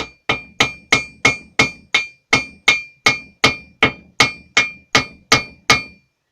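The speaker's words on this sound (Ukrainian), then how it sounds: "взяти менший молоточок, я може по краю буду бити" A small hammer strikes an oak chisel handle in a steady series of about fifteen sharp, ringing taps, evenly spaced and close by, with no talking.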